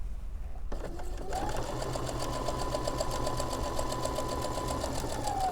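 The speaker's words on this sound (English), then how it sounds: "I'm going to sew this. I'm just going to carefully let it feed in." Sewing machine stitching triangle quilt pieces together, starting abruptly and running in a steady, fast, even mechanical whir with rapid needle ticking, close and clear without talking.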